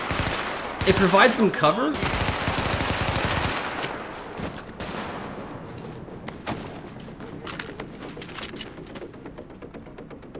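Gunfire in The Division video game: a dense burst of rapid automatic shots early on, then scattered single reports and clicks, with someone talking over it.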